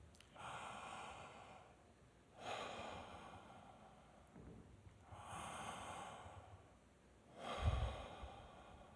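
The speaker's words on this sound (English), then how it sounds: "let us breathe like this for a few moments together" Slow, deep group breathing during a meditation at a Sunday service, heard as long soft inhalations and exhalations in a steady rhythm, each breath several seconds long, faint and close, with no talk.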